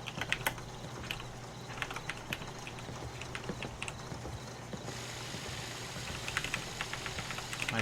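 Steady typing on a computer keyboard, with continuous clicky keystrokes in uneven bursts close by over a low background hum and no talking.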